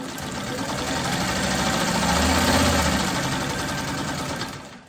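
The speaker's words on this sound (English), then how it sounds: "I'm sewing from diagonal to diagonal." A sewing machine stitches a 4.5-inch quilt block diagonally from corner to corner, a close, fast, steady mechanical whirr that swells slightly in the middle and cuts off at the end.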